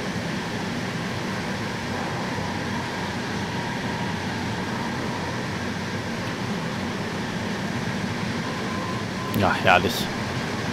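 Intercity passenger cars run at speed in Train Sim World 3, with a steady rumbling rail roar and constant hiss throughout and a brief clatter near the end, while someone speaks briefly over it.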